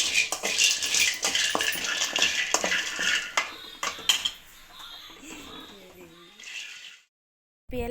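Dry roasted turmeric and asafoetida stirred in a pan, a busy run of metal scraping and clinking from a spoon against the pan, loud and close, thinning out toward the end before a brief silence.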